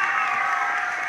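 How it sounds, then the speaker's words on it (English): An audience at an elementary school music festival claps, a brief dense burst of steady applause heard up close with no words over it. "Let's give a nice round of applause for Mateo Ramirez."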